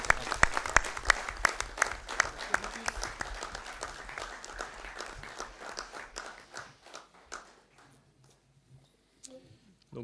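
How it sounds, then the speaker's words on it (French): Applause at a municipal council meeting: a room of people clapping briskly with distinct individual claps, thinning out and dying away over several seconds into near silence. "On peut encore vous applaudir."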